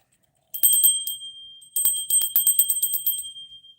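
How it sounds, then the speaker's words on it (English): Small bells, cymbals and chimes used for scrying ring close to the listener in two bursts of bright, high tinkling strokes separated by a short gap, each note ringing on briefly, with no talking. "I scry with my bells and my cymbals and my chimes"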